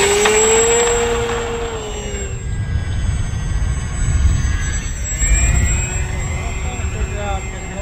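A Mayfly radio-controlled model airplane on Galloping Ghost control gives a loud, buzzing small-engine whine that sweeps down in pitch as it passes, then drops to a fainter, wavering drone in open air.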